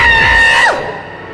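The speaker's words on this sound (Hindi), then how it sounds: "सिद्धार्थ चीखा और झटके से अपना हाथ छुड़ा के पीछे आ गया।" A man's loud, sustained scream as a sound effect in a horror audio drama, holding a high pitch then breaking off sharply downward, alone with no talk.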